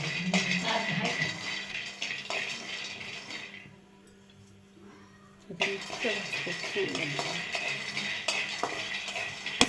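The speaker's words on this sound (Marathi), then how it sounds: "मस्त शेंगदाणे भाजून घेते" Peanuts roasting in a pan, dry rattling and scraping of nuts and utensil against metal, fairly close, pausing briefly in the middle before resuming; a voice speaks at times.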